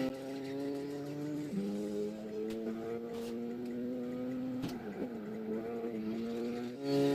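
A Mini Cooper races in Gran Turismo 5, its engine a steady, moderately quiet whine that dips and rises through gear changes, with faint tire squeal; no voices.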